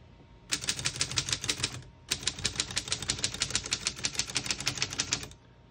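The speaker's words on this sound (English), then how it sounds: "We're going to keep it on single for now and finish typing." Rapid mechanical clacking of a 1929 Corona Four portable typewriter's keys in two bursts, single-spaced, a brief pause between them, crisp and close with no voices.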